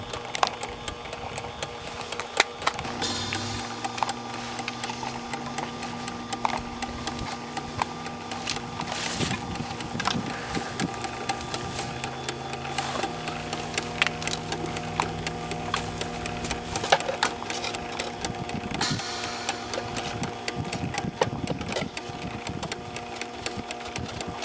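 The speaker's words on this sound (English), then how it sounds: "at the 300 ml per minute pumping rate, now we're just going to let this bubble for 10 minutes" A small pump runs at 300 ml per minute and bubbles liquid through a bottle, giving a steady mechanical whir with a rapid rattling pulse, close and constant throughout.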